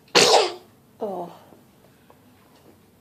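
A single close, loud sneeze bursts out sharply, followed by a brief softer voiced sound and then near silence.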